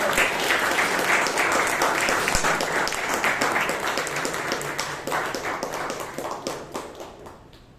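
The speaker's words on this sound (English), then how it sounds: "Let's give a big round of applause." Applause at a Toastmasters meeting in Bangalore, a dense burst of many hands clapping close by that slowly thins and fades toward the end.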